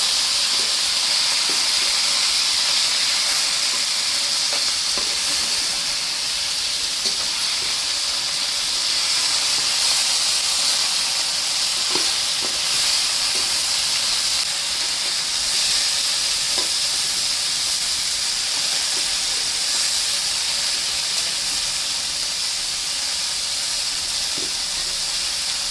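Sea fish (morma) fry in a pan with a continuous, dense sizzling hiss and occasional faint pops, steady and close throughout with no talking over it.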